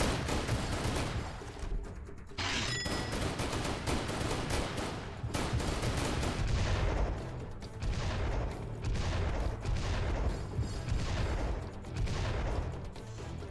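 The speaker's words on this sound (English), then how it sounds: "I'm not very good at shooting with this." Dense, sustained gunfire fills the Serious Sam VR video game, with rapid automatic bursts rattling almost continuously, loud and close, broken only by brief pauses.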